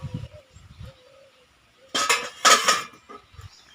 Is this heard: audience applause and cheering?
no